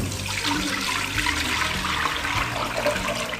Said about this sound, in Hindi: सबसे पहले मैं सारी यखनी इसमें डाल रहा हूँ